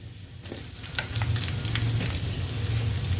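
Onion and garlic sautéing in a pan, a loud close sizzle that swells after a quieter start and continues steadily with faint stirring.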